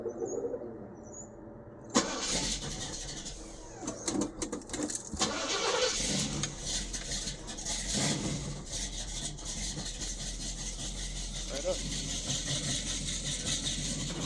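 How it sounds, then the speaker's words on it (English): A Chevrolet Camaro cold-starts with a sharp crank and catch after a short quiet pause, then settles into a loud, rough, steady idle with a few revving surges, close by and with no talking. "Cold start the Camaro."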